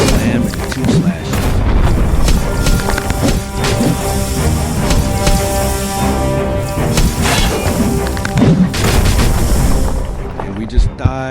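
Boss slam and double slash attacks in an RPG video game: heavy booming impacts and sharp hits sit in a dense, loud game mix with music, steady throughout with a few stronger strikes.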